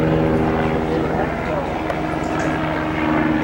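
A propeller aircraft drones loudly overhead, a constant low engine hum with a steady buzzing tone and no voices.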